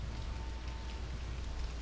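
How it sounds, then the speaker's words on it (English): Steady, even hiss of rain falling on a surface, dense and continuous with no distinct drops standing out, fairly quiet throughout. "It started raining."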